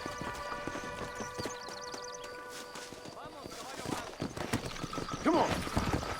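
Horse hooves clip-clopping in the Red Dead Redemption video game, a steady rhythmic clatter under game music and ambient noise, with a horse whinnying briefly near the end.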